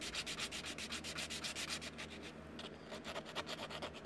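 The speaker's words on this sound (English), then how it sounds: "Take your sandpaper," Sandpaper rubbed back and forth along the snapped edges of a hard RC car body, a steady rhythmic scratching in quick strokes, close and fairly loud with no talk.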